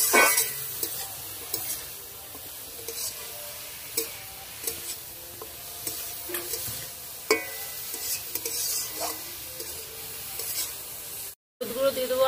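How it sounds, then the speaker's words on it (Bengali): Cabbage with salt and turmeric hisses faintly in a pan while a utensil stirs it, with scattered scraping knocks and soft clinks spread across the sizzle. "লবণ হলুদ দিয়ে ভালো করে নেড়ে নেব।"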